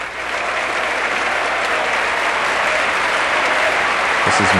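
Loud, unbroken applause from a packed U.S. Congress chamber greeting President Cory Aquino, a thick wash of clapping that stays steady and strong with a small knock near the end.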